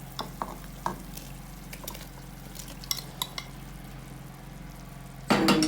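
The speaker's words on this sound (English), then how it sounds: "let me add my meat to it" Meat being added to a thick simmering banga soup stew in a pot: steady low bubbling and sizzle, with faint utensil clinks and stirring knocks, then a louder burst of sizzling splash near the end.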